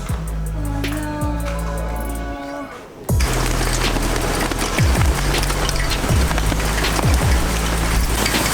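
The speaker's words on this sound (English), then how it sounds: "Look at the rain." Heavy rain pounding on a van parked in Russia, a dense, loud hiss of drops drumming steadily on the roof and body, with low thuds repeating underneath and brief talk early on before the downpour roars in.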